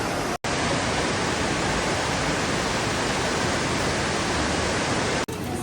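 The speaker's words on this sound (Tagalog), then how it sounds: "Ito pala dito sa taas, another side ng waterfall again." Wulai Falls in Taiwan pour with a dense, even roar of falling water, heard close and loud and unbroken for several seconds.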